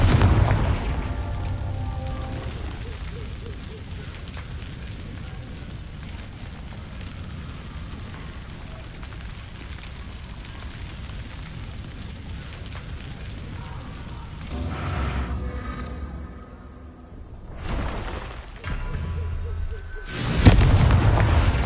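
Confringo fire spell explosions in Hogwarts Legacy give heavy booming blasts with a rumbling, crackling tail, a long roar that fades, then sharper bursts near the end.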